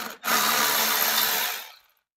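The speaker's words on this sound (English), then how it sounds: "We're going to take the map sensor cover off." A map sensor cover is pulled off a Catalyst 600 snowmobile during a turbo kit install, giving one close, brief scraping rub of about a second that fades out quickly.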